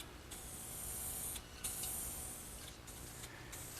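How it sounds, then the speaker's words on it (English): Paint spraying onto an MDO board for a mailbox sign: a steady close hiss in bursts with two short pauses between passes, no talking. "It's important to use restraint when spraying."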